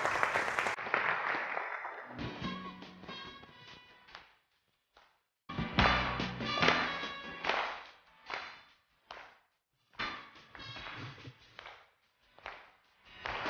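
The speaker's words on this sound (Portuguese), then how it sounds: "Vamos aplaudir o Jazá!" An audience applauding in bursts, a loud opening wave of claps that fades, then several shorter rounds of clapping separated by brief quiet gaps.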